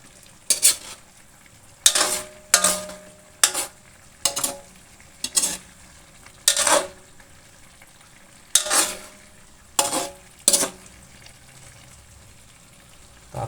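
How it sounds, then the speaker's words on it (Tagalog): Potatoes and carrots fry in a pan, with about a dozen loud, separate bursts of sizzling and stirring spaced a second or so apart. "Pinrito ko yung patatas at saka carrots."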